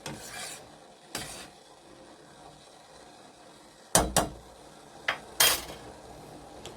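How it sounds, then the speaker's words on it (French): A spoon scrapes and clinks in a pot of boiling eucalyptus tea, a few separate rasping stirs with quiet gaps between them, close by and without speech. "Et nous mélangeons."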